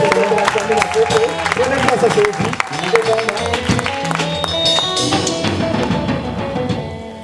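Church convention audience applauding in acclaim of Jesus Christ, with dense clapping filling the hall alongside voices and tonal sound from the room.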